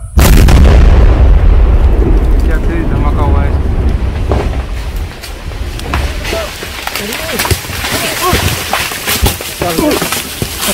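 Controlled detonation of seized Naxal explosives in Aurangabad, Bihar, set off from about 500 metres: a massive opening blast and rumble, then debris falling and wind noise as people talk and shout nearby.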